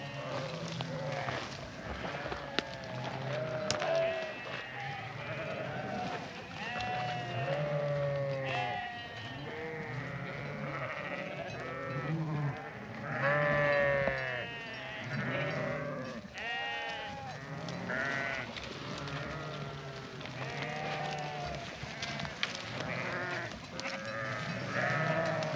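A tightly bunched flock of sheep on the move, with many overlapping bleats near and far, some baa-ing loudly up close, and a continuous chorus over the shuffling of hooves.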